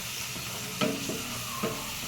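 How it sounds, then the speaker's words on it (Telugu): Turmeric is stirred into a mushroom masala curry in a pan, with a quiet sizzle throughout. Two soft spoon scrapes or knocks against the pan stand out over the frying. "ఒక 1/2 చెంచా పసుపు వేసుకొని ఒకసారి బాగా కలుపుకుందాం."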